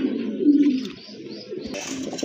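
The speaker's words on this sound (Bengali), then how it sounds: "বিগ সাইজের এক জোড়া ব্ল্যাক লাহোরি কবুতর" A pair of large black Lahori pigeons coo in low, throaty bursts up close, one rolling coo followed by softer murmurs and a faint rustle, with no talk.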